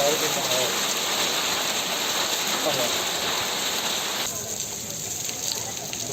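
Steady unseasonal rain pours down in a town, a dense continuous hiss of drops on surfaces that eases slightly near the end.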